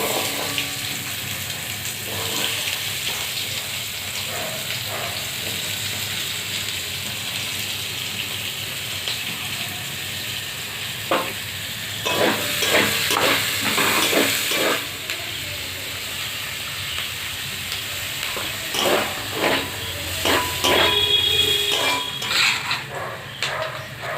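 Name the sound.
frying onion in a pan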